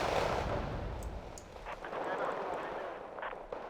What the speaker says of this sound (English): Corrected shot on this artillery is going to be key.